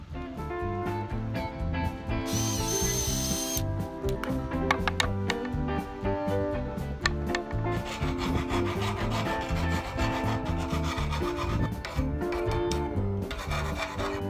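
A tool works on a spinnaker pole end piece, widening a hole with a continuous rough rasping and grinding, close and steady throughout with no talk.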